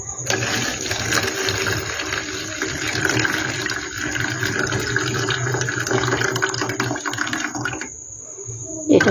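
Sago pearls being washed with water, a continuous close sloshing and rubbing of wet grains by hand with a steady watery hiss that stops just before the end.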